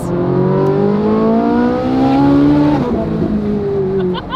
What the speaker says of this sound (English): Oh, that just spun tires.